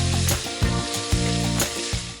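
Ground shallot, garlic, pepper and chili paste hitting boiling oil in a home kitchen, giving a loud, steady crackling sizzle with brief bursts as it is stirred, no voices.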